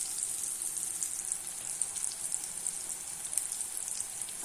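Raw banana slices frying in oil, a steady high crackling sizzle with tiny pops throughout, close and continuous with no voices.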